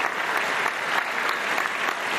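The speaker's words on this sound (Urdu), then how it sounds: "بہت ساری تالیوں میں رخصت کیجیے ان کو" A studio audience on a Ramadan iftar quiz show bursts into sustained applause, dense and even, the clapping loud and unbroken with no voices over it.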